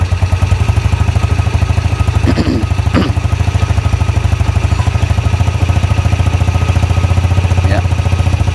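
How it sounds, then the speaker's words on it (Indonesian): A Honda/Yamaha Jupiter Z motorcycle engine held at a steady raised speed of around 4000 rpm, a continuous close, loud droning hum with a couple of faint clicks, and no talking. "Sekarang kita gas sedikit teman-teman"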